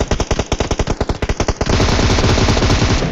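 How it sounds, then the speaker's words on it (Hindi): Rapid bursts of automatic gunfire, about a dozen sharp shots in quick succession, then a sustained roaring rattle of continuous fire, loud and close. "वहाँ पे फायरिंग की आवाज़ आती है"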